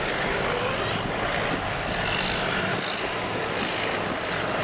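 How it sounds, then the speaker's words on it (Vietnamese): A composite Vietnamese fishing boat engine runs steadily at anchor in a storm shelter at the Mỹ Tân river mouth, a loud continuous drone mixed with wind rush and no pauses. "Tàu đẹp lái, tiếng máy nghe đẻ quá."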